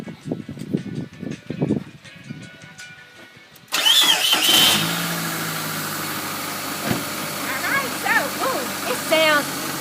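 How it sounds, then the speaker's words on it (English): A car engine cranks with a short starter whir, then catches and settles into a steady, loud idle during an airflow sensor demonstration, with a person speaking beforehand. "So, that's how your car should sound."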